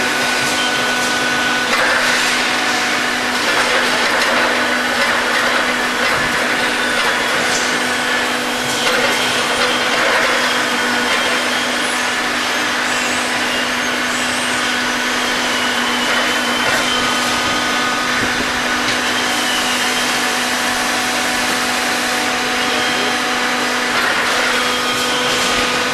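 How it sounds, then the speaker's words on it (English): Fin press machine in a heat exchanger factory stamping out fin material, giving a loud, steady industrial drone with a constant hum and clattering mechanical texture that runs through the whole stretch without talk. "The fin press machines, which manufactures the fin material for the heat exchanger."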